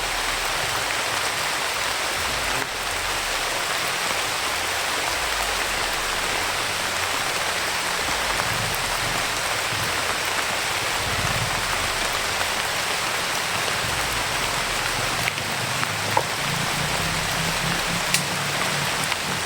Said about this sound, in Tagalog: Basta ulan brad.